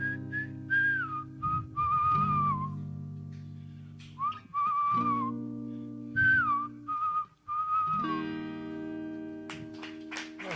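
A person whistles a melodic tune at an acoustic open mic, clear sustained notes with sliding pitches in phrases over a strummed acoustic guitar, no voices speaking.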